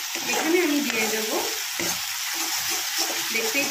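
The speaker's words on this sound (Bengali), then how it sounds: "দেখতেই পাচ্ছ আমি কিন্তু পুরো ভেজেই চলেছি এটা।" Onion and green chili paste fries in a wok for a prawn and coconut milk curry, a steady close sizzle with scraping stirs of the spatula running throughout.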